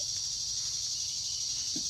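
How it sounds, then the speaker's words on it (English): Grasshoppers or similar insects buzz outdoors in a loud, steady high-pitched drone that continues without a break, with no voices present. "It's starting to get loud from the bugs, or whatever those are, grasshoppers."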